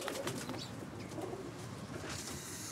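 Pigeons coo steadily at close range, a continuous layered murmur of soft throaty calls with faint chirps mixed in and no voice over it.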